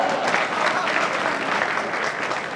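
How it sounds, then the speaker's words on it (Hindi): Steady, dense applause from an audience at a Hindi poetry gathering (kavi sammelan) at the Kishanpur fair, sustained evenly throughout without a break. "तालियां बजाओ।"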